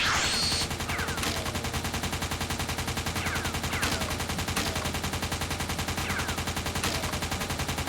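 Video game weapon firing nonstop in rapid, evenly spaced bursts that form a dense continuous rattle for the whole stretch, with a few sharper impacts mixed in, and no talking.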